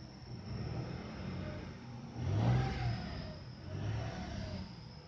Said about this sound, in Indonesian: Suara juga khas 3 silinder